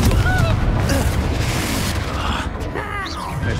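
An explosive Confringo spell blast in the Hogwarts Legacy video game lands as a loud, booming burst with a rumbling tail, with a shouting voice over the noise.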